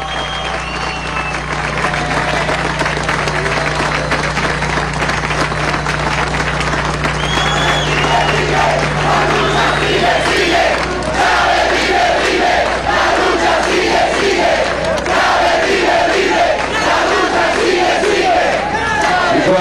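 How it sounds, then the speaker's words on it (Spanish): Large crowd at a Venezuelan government rally applauding and cheering loudly and continuously, with shouts and chants rising over steady clapping, alongside Cabinet of Revolutionary Ministers members. "un aplauso al Consejo de Ministros Revolucionarios"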